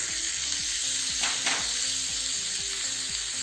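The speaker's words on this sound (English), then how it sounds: "Now add noodles to it." Noodles for yakisoba fry in a hot pan with a dense, continuous sizzle, close and loud. Brief stirring scrapes are heard partway through.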